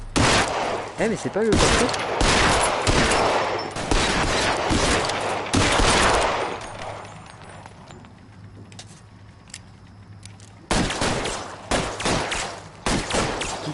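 Gunfire from a shootout in the video game L.A. Noire: bursts of rapid shots in the first half and again near the end, with a quieter stretch between and someone talking over the action.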